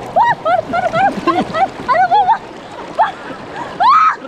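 Swift current on the Batanghari River rushes and splashes near a bamboo fish trap, a steady wash beneath loud, excited shouting voices that dominate throughout.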